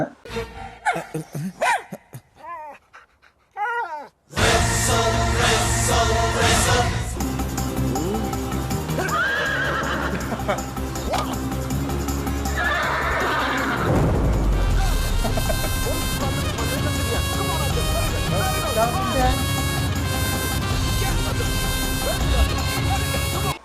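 A horse neighs in a film scene from Hari Hara Veera Mallu, its calls rising briefly midway through and partly buried under loud, continuous orchestral music and effects that follow a quiet opening.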